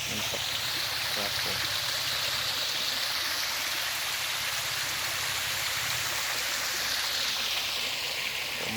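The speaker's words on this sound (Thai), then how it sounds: "มีเสียงน้ำตกนะครับ ครับบรรยากาศน้ำตกครับ" Kham Hom waterfall in Phu Phan, Sakon Nakhon, Thailand, pouring in a constant, full, hissing rush heard close up, with a faint voice now and then.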